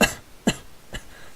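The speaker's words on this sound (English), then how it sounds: "I tried to not cough into the mic." Three sharp coughs close to the microphone, spaced about half a second apart, each a loud burst fading quickly, with no talking.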